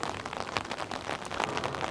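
Rain falls steadily at night, a dense, even hiss of drops hitting surfaces that stays at a moderate level throughout with no voices over it.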